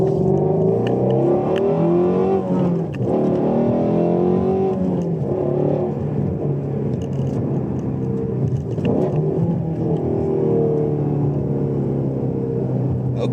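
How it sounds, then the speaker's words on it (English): A Ford Mustang GT350 downshifting from third to second gear: a steady, loud engine drone with rising and falling revs, close by and heard alone without voices. "so that 3rd to 2nd gear downshift was good"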